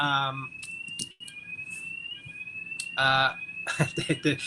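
A fire alarm sounds in the background, a continuous steady electronic tone running under and between nearby speech.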